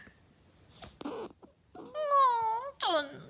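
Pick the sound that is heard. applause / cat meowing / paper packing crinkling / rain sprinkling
cat meowing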